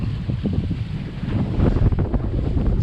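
Sailboat on a beam reach in a stiff breeze and open-sea swell, loud steady wind rush buffeting the microphone over low water wash and rushing waves, no voices.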